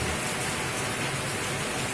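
Steady rain falls outdoors behind a shopping area in Raja Basa, Bandar Lampung, during the rainy season. It makes a dense, even hiss with a low rumble and no pauses, and no one speaks.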